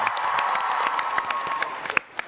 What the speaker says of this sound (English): Big round of applause for Kim.